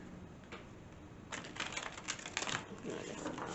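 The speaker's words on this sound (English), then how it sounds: "I want to see if I could shuffle these" Glossy fourth-edition tarot cards riffled and shuffled by hand, a soft papery flutter that swells into a brisker burst of card slaps midway, quiet and close.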